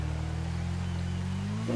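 A motorcycle engine in GTA V revs in a steady low drone that rises slightly in pitch, heard up close and loud, with no talk over it.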